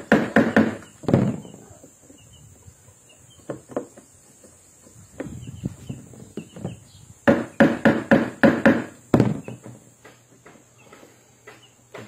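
A chisel struck by a hammer during a washing machine gearbox replacement: clusters of sharp metallic blows, several quick hits in bursts with pauses between, close and loud.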